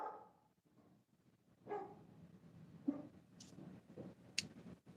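A dog barks at a door indoors, a few scattered muffled barks at moderate distance with sharp higher yips near the end, fairly quiet overall with faint background noise.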